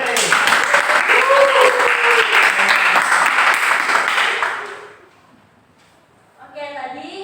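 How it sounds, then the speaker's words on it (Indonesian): Dense, lively clapping from a classroom of students fills about five seconds, then stops abruptly, leaving silence before a voice starts speaking. "tepuk tangan dulu untuk kalian semua"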